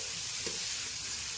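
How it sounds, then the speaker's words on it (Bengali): Cabbage tipped into spice masala already fried down in a pan at an outdoor picnic, giving a steady, close sizzle with a soft stirring scrape partway through and no talk. "এই যে বাঁধাকপির মশলা কষানো হয়ে গেছে, এইবার বাঁধাকপি ছাড়া হচ্ছে।"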